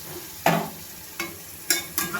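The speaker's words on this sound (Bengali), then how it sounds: "আর এখানে যে আমি মিক্সি জার ধোয়া জলটা অল্প অল্প করে দিয়ে মশলাটাকে একটু কষিয়ে নেবো।" Ground spice paste is sautéed in a pan with small splashes of water for a masala pabda fish curry: four spaced spatula strokes scrape through over a soft, steady sizzle.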